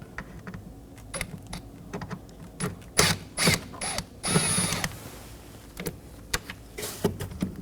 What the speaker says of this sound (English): Remove these with a T25 bit.